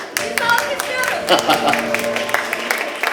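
A studio audience at a live music performance claps in a brief burst of scattered applause, with voices talking over it.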